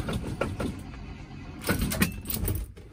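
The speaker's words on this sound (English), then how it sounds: "let's try a cold start on the ambulance. Give it a little bit of gas." An old ambulance engine cranks during a cold start, a close mechanical churning with uneven surges and bursts that rise and fall over a few seconds without settling into a steady idle.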